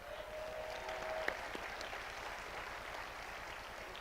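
An audience applauding at a Martin Luther King Jr. holiday breakfast event, a steady wash of clapping across the room under a low background hum, with a brief tone near the start.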